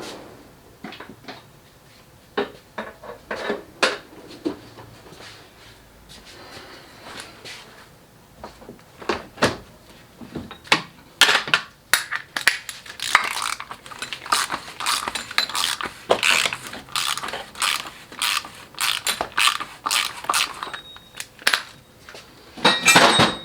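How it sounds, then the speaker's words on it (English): Oil filter housing being removed from a Mercedes M276 engine, with a series of sharp metallic clicks, clanks and rattles of parts and tools, sparse at first and then dense and busy, close by with no talk. "So now I'm gonna take the oil filter housing out."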